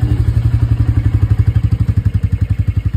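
A motorcycle runs close by with a loud, even chugging beat of rapid engine pulses, steady throughout with no voices.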